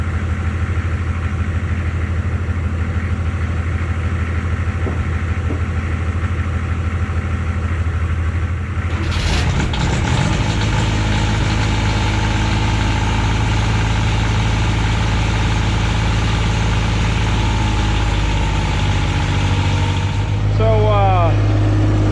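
An old 6.5 diesel plow truck engine runs with a loud, steady low idle rumble. Partway through, a clattering change rises, and the engine keeps droning afterward, with speech faintly present.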